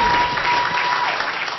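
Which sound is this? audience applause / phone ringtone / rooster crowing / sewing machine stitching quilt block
audience applause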